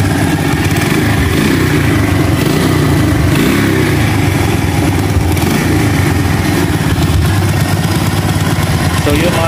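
A motorcycle runs after its regulator was replaced, the engine a loud steady idle with slight rises and dips that continues throughout.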